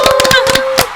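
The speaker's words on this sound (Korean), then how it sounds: "네 분 뜨거운 박수로 환영하도록 하겠습니다." A handful of loud, close hand claps welcome four guests on a Korean TV interview program. The claps land in uneven bursts over a steady sustained tone.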